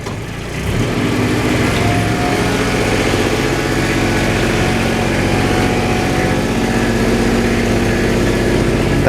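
A roughly 15-year-old Kubota with a new battery and 1850 hours on it cranks and catches at the start, then settles into a loud, steady, close-up engine run with a constant drone that lasts to the end.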